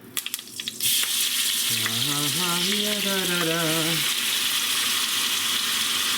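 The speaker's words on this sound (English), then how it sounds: "So let's pour in our steak, and we're just gonna sear them right now." Bits of beef sirloin hit hot oil in a pan and sear with a loud, steady sizzle that starts abruptly and carries on unbroken, with a brief tonal hum partway through.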